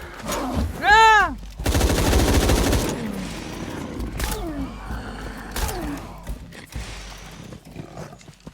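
Gunfire from Shadow of the Tomb Raider: a loud, rapid automatic burst close up, followed by a few scattered shots, with a man's startled vocal sounds and game effects around it.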